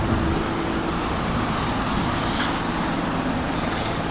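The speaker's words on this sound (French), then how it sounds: "Alors, caravane de l'anti-émeute qui va passer." Riot police convoy vehicles and minibuses driving past on a Montreal street during a May Day protest, a steady, loud wash of engine and road noise rolling by continuously with no clear gaps.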